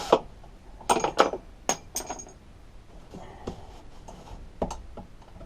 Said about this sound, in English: Since they're only plastic, I've just dropped all the screws.